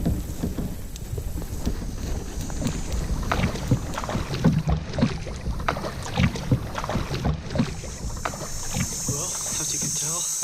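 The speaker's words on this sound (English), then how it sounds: "Headed in right now in the kayak." Kayak paddling on water during an early-season whitetail hunting trip, close rhythmic paddle strokes and drips with wind noise on the microphone and occasional hull knocks.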